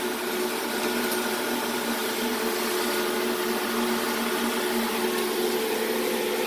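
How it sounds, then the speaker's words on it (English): A ProTeam ProBlade vacuum cleaner runs steadily up close, a loud even motor whine with a constant airy rush and no pauses. "This is the bottom part of the vacuum."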